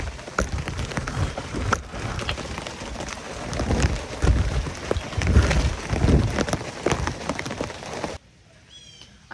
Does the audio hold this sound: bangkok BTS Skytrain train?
no